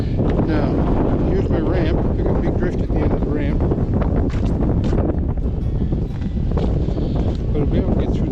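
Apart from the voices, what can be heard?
strong wind blowing over microphone in snow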